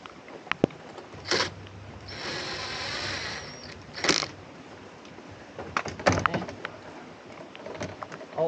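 A ratchet tightens a bolt on a new body catch, giving a nearby burst of fast clicking. Scattered metallic knocks and taps from handling the tool surround it.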